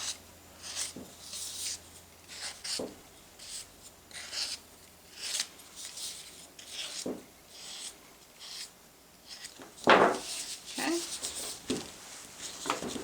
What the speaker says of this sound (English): I go back over and smooth the edges with a fondant smoother